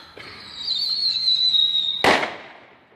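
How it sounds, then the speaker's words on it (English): Fireworks going off at a distance during a night-time display: a long high whistling rise lasting about two seconds ends in one sharp, loud burst that then fades out. "Nah, that's not a baby firework. That was a teenager firework."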